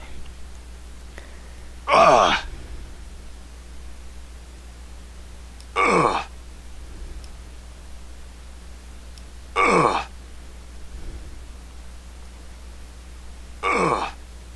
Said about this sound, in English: after a few hours, those hiccups might start getting old